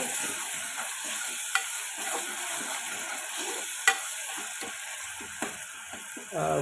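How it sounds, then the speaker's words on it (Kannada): Oil sizzles steadily in a pan while ingredients fry for goat leg soup, a constant close hiss broken by a few sharp clicks of a spoon stirring, with no talk. "ಇದರಲ್ಲಿ ನೀಟಾಗಿ ಈ ಥರ ಫ್ರೈ ಮಾಡೋಣ ಅದ್ರದ್ದು ಹಸಿ ವಾಸನೆ ಹೋಗ್ಬೇಕಷ್ಟೇ"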